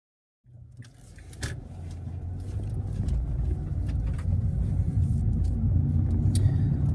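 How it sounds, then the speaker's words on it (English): An automatic car starts from silence and is driven, its engine rumble and road noise building into a steady low drone, with a few small clicks and knocks inside the cabin and no talk. "Let's start with my mom's automatic car."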